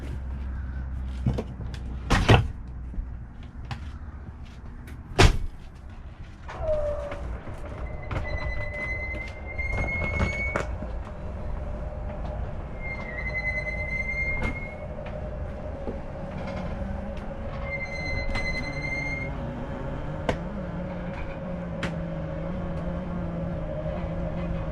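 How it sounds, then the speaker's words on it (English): An RV slide-out extends with a long, steady motor whine holding a sustained tone, punctuated by a few sharp clicks and clunks at the start, with faint higher chirping squeaks over the running drive. "I am going to put the slide out for you."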